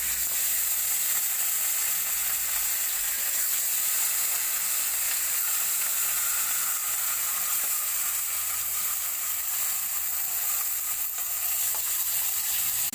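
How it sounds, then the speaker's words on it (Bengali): Fish frying in hot mustard oil in a kadai, a steady, even sizzle that holds without a break throughout, close and fairly loud, with no voices. "এবার মাছগুলো আমি ভেজে নেব"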